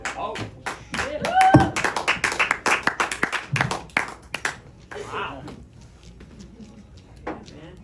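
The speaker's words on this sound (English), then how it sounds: "Everybody give her a round of applause for PJ King." A small audience claps for a performer, a few distinct hands clapping loudly and unevenly at close range, then thinning out to scattered claps with some voices underneath.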